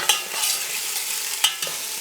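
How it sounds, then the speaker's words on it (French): Onions frying in a pan, Roscoff onions for a Réunion rougail saucisse, a steady soft sizzle with a few sharp stirring clicks near the start and middle. "on fait d'abord rissoler des oignons"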